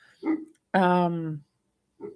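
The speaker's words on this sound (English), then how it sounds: "that's my dog in the background." A dog gives a single drawn-out bark or howl-like yelp in the background between short bits of a person speaking, fairly clear and loud against a quiet room.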